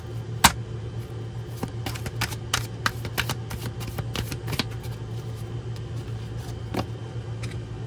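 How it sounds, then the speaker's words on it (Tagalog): A deck of playing cards being shuffled by hand, giving a run of crisp, irregular riffling snaps and flutters over a steady low hum, close and fairly quiet. "Ngayon po ay magbalasa muna po tayo nitong isang baraha."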